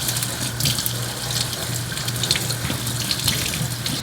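Tap water runs steadily into a sink while a makeup beauty blender sponge is rinsed and squeezed under it, a close, constant splashing rush with small bursts of gurgling.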